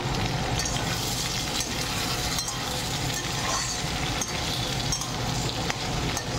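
Potato pieces fry in hot oil in a pan as the base of a Bengali fish curry, a steady dense crackling sizzle that runs unbroken and fairly loud throughout, with no voices over it.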